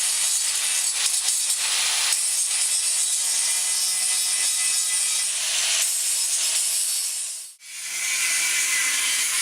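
Continuous harsh sawing through the frame of a vintage caravan, a steady loud rasping with brief pauses, one near-complete stop before the cutting resumes.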